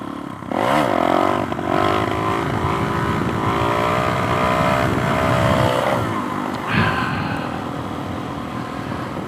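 A Suzuki DRZ 470 dirt bike engine with an FCR 39 or Lectron carburetor revs up and down while being ridden, rising and falling pitch sweeps over steady engine drone and wind noise, loud and close throughout.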